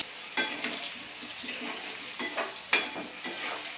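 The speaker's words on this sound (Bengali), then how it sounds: "মিডিয়াম করে আলুটা আমি ভাজবো" Potato slices for aloo katli fry in a pan over medium heat, giving a steady close sizzle broken by occasional clinks and scrapes of a utensil, with no talking.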